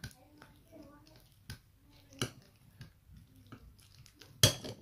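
A spoon stirs and clinks against a bowl while mixing a honey-based home cough remedy, giving sporadic sharp metallic taps and scraping with quiet pauses between them and soft speech nearby.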